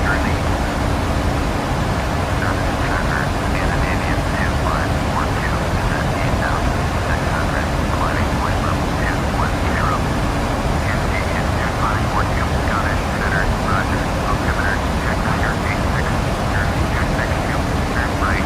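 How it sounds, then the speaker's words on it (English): A PMDG Boeing 737 in a flight simulator game takes off, a loud, steady roar of jet engines rolling on for the whole stretch, with no talk over it. "that's the second takeoff of the tour completed"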